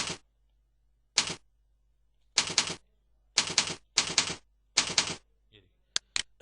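Keys tapped on a computer keyboard in several short bursts of clicking separated by brief pauses, close and fairly crisp, with no voice.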